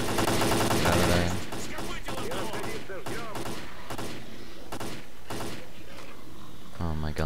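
Automatic gunfire in the S.T.A.L.K.E.R. video game: a burst of rapid shots, then scattered cracks and mechanical clatter, with someone talking through it.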